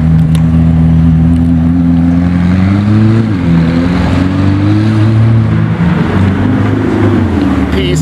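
Deep, loud engine roar of an exposed carbon McLaren Senna pulling away in a convoy of supercars, a strong steady drone that rises and wavers in pitch as the cars accelerate, close by with no talking.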